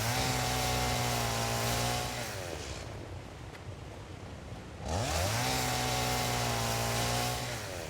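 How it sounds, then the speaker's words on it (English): Chainsaw cutting trees in the video game Satisfactory, a loud steady engine whine that drops away for about two seconds mid-cut, then revs back up and runs on. "Chop some trees."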